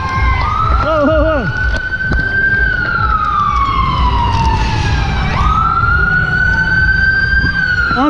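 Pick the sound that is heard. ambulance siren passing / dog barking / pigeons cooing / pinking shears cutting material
ambulance siren passing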